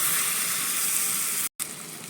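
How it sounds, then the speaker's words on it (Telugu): Hot tempering with asafoetida and turmeric hits raw bottle gourd chutney in a loud, steady sizzle that drops out for a split second, then resumes. "పోపు ఇందులో వేసేద్దాం."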